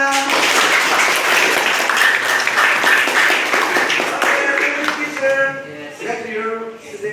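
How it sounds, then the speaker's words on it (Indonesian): Schoolchildren clap together in a classroom, a loud burst of hands that thins out toward the end as voices and chatter take over. "tepuk tangan semuanya"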